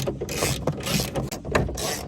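A ratchet turns a 10 mm bolt on a 2003–2009 Hummer power window assembly, giving quick bursts of metallic clicking and scraping close by, with short pauses between strokes.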